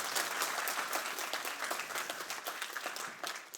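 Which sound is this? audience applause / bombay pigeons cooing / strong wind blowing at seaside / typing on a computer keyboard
audience applause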